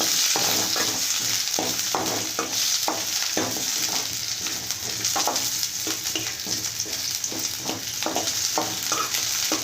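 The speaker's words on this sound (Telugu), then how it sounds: "ఒక ఉల్లిపాయ ముక్క చేసుకొని ఇట్లా వేసుకోవాలండి కొద్దిగా ఆయిల్ వేసుకొని కొద్దిగా వేసుకోవాలి" Chopped onion fries in a little oil for gongura chutney, a steady close hiss of sizzling with regular scraping strokes of a stirring spoon throughout.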